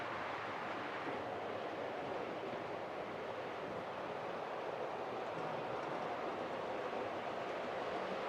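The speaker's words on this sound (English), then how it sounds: "I got two sound locos running around here at the moment." Two model locomotives with sound units run on a layout, giving a steady, faint rumbling drone of running train noise with no clear breaks.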